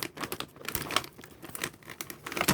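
A plastic zipper bag of dried hawthorn is opened up close, giving a quiet flurry of crinkling, rustling and crackling plastic in quick irregular bursts, with no voices.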